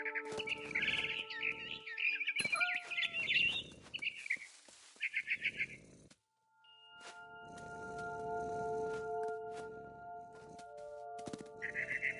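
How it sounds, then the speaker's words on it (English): Bird chirping in the game What Remains of Edith Finch: bright, repeated tweets and calls close by in a busy first half, then softer sustained chiming tones after a brief silence. "Then I heard chirping outside my window."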